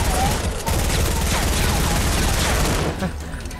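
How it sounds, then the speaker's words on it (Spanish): Dense, continuous gunfire from a Fortnite battle royale match, rapid overlapping shots forming a loud fusillade that runs nearly the whole time before easing off near the end, with game noise and faint voices underneath. "Ay, qué tiroteo"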